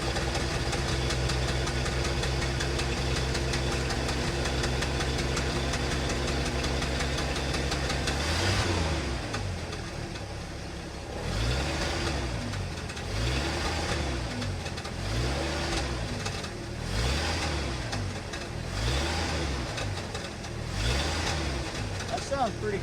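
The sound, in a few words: 1974 Ford F-250 engine idling after spark plug change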